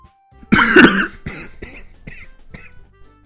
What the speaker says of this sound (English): I will be coughing a lot during this.